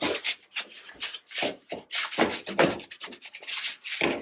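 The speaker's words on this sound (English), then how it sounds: "I got some cooked on food here. I'm gonna use the scratchy side" Scratchy side of a cold, stiff scrub sponge rasping over cooked-on food on a dish: close, repeated back-and-forth scrubbing strokes in a steady, uneven rhythm, with no talking.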